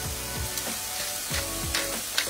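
Salted aubergine pieces fry in a hot pan with a steady, close sizzle and crackle, marked by occasional sharper pops and light stirring scrapes, and no one talking.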